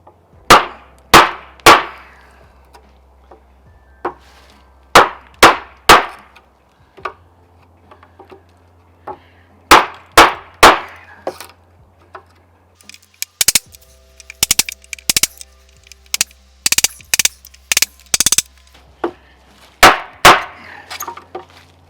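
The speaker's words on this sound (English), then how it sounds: "We're gonna go 1 inch through this 2x4 with both the MAGNACUT and the 3V." Knives of MAGNACUT and 3V steel batoned an inch into a 2x4 board: a series of sharp, loud wooden cracks in quick clusters of two and three, with faint ringing hum and shuffles between strikes.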